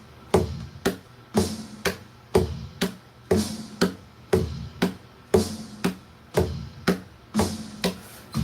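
Steady fingertip taps knock out an even beat, about two per second, close and fairly quiet with nothing else present.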